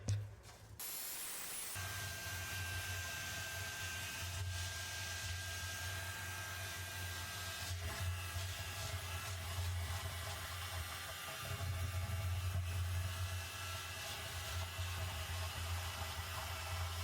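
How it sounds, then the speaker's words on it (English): A swimming pool vacuum sucks sand off the pool bottom, a loud, steady rushing and hissing drone with a low motor hum that runs unbroken for the whole stretch after a brief start. "we're going to vacuum this all out."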